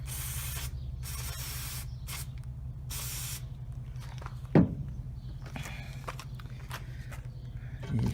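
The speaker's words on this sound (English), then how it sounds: "we're going to add a little more WD-40 to that and clean off our bits" WD-40 lubricant sprayed from a can onto a motorcycle foot peg mount during a thread repair, several loud hissing bursts of varying length early on, followed by quieter clicks and handling sounds.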